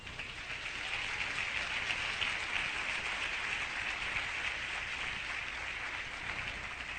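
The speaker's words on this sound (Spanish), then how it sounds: "Denle un aplauso al Señor." Church congregation applauding steadily for several seconds, a dense, even wash of clapping that swells in and holds at moderate level, heard alone without talk.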